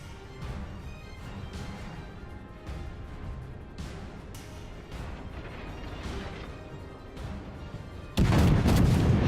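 HMS Warspite battleship guns firing in World of Warships, a naval combat game: repeated muffled booms and rumbling salvos through a continuous battle din, ending in a sudden loud blast that stays heavy to the end.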